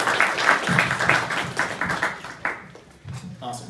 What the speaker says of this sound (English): let's give a round of applause for our esteemed guests.